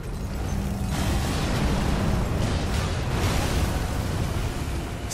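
A bomb blast in Elden Ring, a loud sustained roaring rumble that swells and holds for several seconds with no talking.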